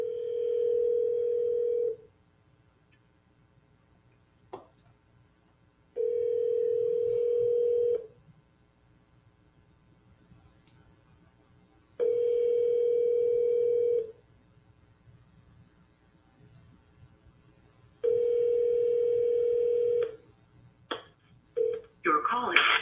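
A telephone call rings through, four steady two-second ring tones spaced by silent gaps, ending with a few brief clicks. No talk over the rings.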